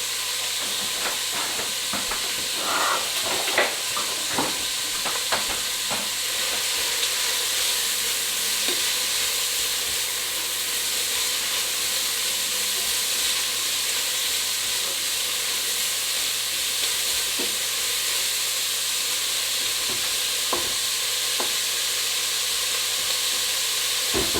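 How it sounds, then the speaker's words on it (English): Onions, carrots and celery sautéing in a pan for Turkish lentil soup, a loud continuous sizzle and hiss with occasional spoon taps and stirs, close and alone without talk. "We're just going to saute that until the onions are nice and translucent"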